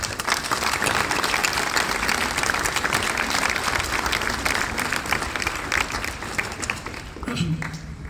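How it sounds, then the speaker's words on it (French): Steady, dense applause from an audience at a mayor's New Year greetings ceremony for local dignitaries, continuous and even for several seconds before tapering slightly at the end, with a faint voice near the close. "On peut les applaudir."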